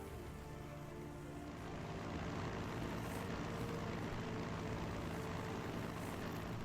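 A torpedo bomber aircraft in Strategic Mind: The Pacific drones with a steady propeller-engine roar, rising slightly in level and holding constant, with no voices.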